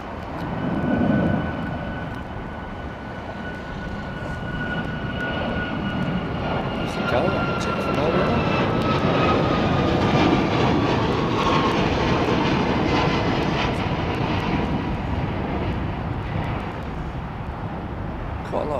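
A jet airliner departing Heathrow airport roars steadily and loudly for the whole stretch, its engine drone and whine slowly shifting, with some talking faintly under the noise.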